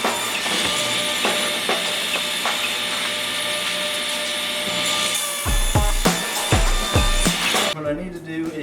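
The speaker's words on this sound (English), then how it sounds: "Cutting 3 15-inch long pieces out of it." A saw cuts 2x4 boards into 15-inch pieces, giving a steady, harsh cutting whine that ends in a few heavy thumps as the pieces drop, with faint talk under it.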